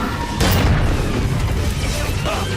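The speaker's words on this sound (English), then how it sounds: "use special attacks that take their sweet time to recharge and also heal some health, like this very cartoony looking gigantic bullet" Gigantic cartoony bullet special attack in Gungrave G.O.R.E., a loud booming blast that swells suddenly and rumbles on with heavy low roar.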